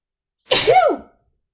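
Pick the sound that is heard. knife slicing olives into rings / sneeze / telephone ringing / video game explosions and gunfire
sneeze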